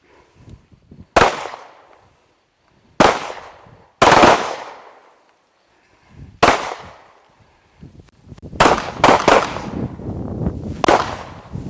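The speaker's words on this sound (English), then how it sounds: "On my command of up, I would like you to fire 3 perfect rounds." Pistols fire while shooters zero red dot sights on a range: sharp, loud single shots ring out at irregular intervals with quiet gaps between, then several shots come close together near the end.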